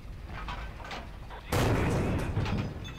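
A single heavy gun blast in the World War II shooter Forgotten Hope 2, sudden and loud after quiet battlefield ambience, followed by a lingering rumbling roar.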